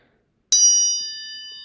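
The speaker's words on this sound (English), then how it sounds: "Just two tuning forks ringing together." Two tuning forks are struck and ring together, one sharp onset followed by a clear, pure sustained tone that fades slowly in an otherwise silent space.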